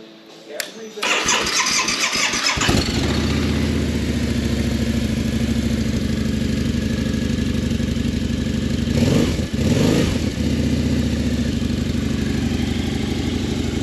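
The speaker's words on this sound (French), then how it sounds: "Pretty smooth for the Harley Davidson. Smooth sounding, huh?" A 20-year-old Harley-Davidson motorcycle in like-new condition cranks and fires, then settles into a steady, loud, smooth idle for the rest of the clip, with a brief rev partway through.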